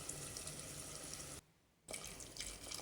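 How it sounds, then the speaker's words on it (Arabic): Warm water pours into a sauce pan of frying harissa, oil, red pepper and spices for a Tunisian red squash shakshuka, a steady close splashing rush that briefly cuts out before resuming. "وشوية ماء دافي"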